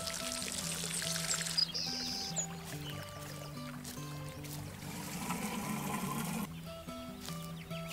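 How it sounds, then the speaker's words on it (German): Water splashing and pouring in the garden sim game Garten Simulator, a steady trickling wash running throughout with layered tonal game music and birdsong over it, a brighter burst of splashing midway. "Man hört nur das Wasser platschen."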